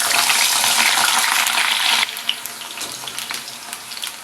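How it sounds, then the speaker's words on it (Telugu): Eggplant pieces deep frying in oil produce a loud, dense sizzle for two seconds that then drops to a softer bubbling crackle with scattered pops, heard up close. "ఈ వంకాయ ముక్కలను ఆయిల్లో ఫ్రై చేసుకోవాలి"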